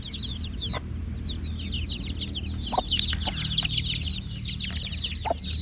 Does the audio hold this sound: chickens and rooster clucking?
yes